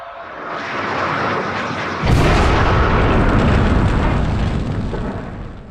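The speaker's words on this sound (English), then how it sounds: "On June the 30th, 1908, a huge explosion tore through the forests of Tunguska, Siberia." A massive comet airburst explosion over Siberian forest, rendered as a sound effect: a rumbling roar that suddenly swells into a loud, deep, sustained blast that rolls on for several seconds.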